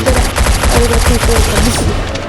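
Rapid bursts of automatic gunfire from a futuristic war video game played on an Infinix Hot 40i phone, loud and continuous with dense repeated shots and no talking.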